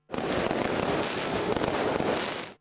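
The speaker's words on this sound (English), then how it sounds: "fireworks lit up the night sky" Fireworks burst over a Christmas tree lighting ceremony in Bethlehem at night, a dense, continuous barrage of loud crackling explosions and pops lasting a few seconds before cutting off.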